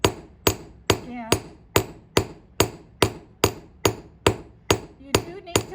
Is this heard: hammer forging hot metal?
yes